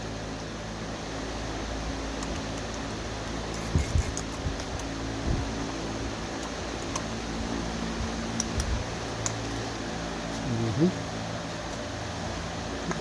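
A steady air blower roars on a gold ore roasting setup, a constant broad whoosh with low hum throughout, with brief faint knocks and clicks scattered over it.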